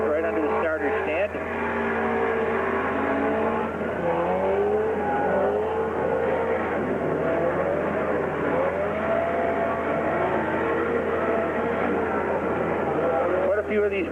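Four-cylinder race cars roar continuously during a bash-off at Gasport Speedway in August 1995, a steady engine drone with shifting revs, while an announcer talks over the noise throughout.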